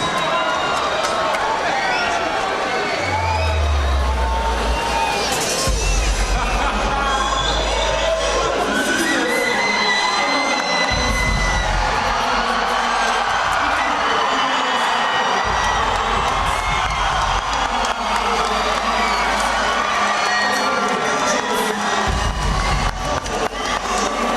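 A crowd at an ICON Sport MMA event cheers and shouts for a fighter's entrance, a dense, loud roar that holds steady throughout with whoops rising above it and deep thumping music pulses underneath.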